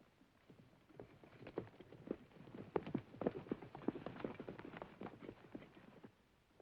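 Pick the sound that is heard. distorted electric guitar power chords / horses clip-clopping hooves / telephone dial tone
horses clip-clopping hooves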